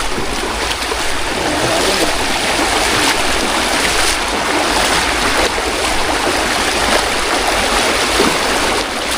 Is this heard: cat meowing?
no